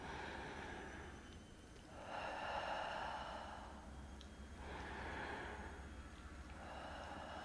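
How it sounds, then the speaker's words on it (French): Slow, deep breaths taken during a pilates exercise: faint, long airy swells of inhaling and exhaling, two or three in a row over a low room hum. "On prend 2-3 respirations ici."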